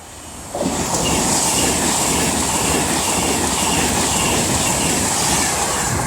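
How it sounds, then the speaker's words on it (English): A Class 390 passenger train runs through Rugby station on its way from London to Edinburgh Waverley, with a sudden onset that becomes a loud, sustained rumble of wheels, rail noise and airy roar, close by and without talk. "the next train to be coming through will be a Class 390 from London to Edinburgh Waverley"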